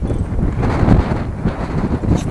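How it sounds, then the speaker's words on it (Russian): Wind blows outdoors in gusts, buffeting a nearby microphone with a loud, low rumble that swells and dips over a couple of seconds. "Что-то ветер сегодня."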